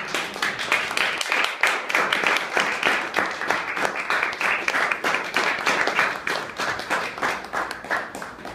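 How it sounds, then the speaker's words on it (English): An audience at a Toastmasters evening claps for a speaker, a sustained round of moderately loud applause with clearly rhythmic, individual hand claps throughout. "give a round of applause for Corey."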